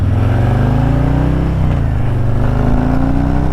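A motorcycle fitted with Tab Performance 4.5-inch mufflers with medium baffles rumbles deep and loud up close, its exhaust rising and falling steadily in pitch as it accelerates.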